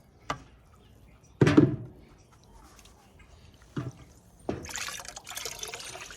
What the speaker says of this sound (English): I'll just try to pour this water off a little bit.